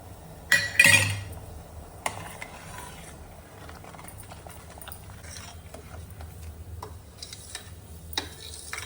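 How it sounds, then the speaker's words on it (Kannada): Rasam powder being added to a pot with a spoon for Kundapura tomato rasam: a couple of sharp metallic clinks near the start, a few lighter taps and faint scraping after, over a quiet kitchen background. "ಸಾರಿನ ಹುಡಿ ಹಾಕ್ತಾ ಇದ್ದೇನೆ"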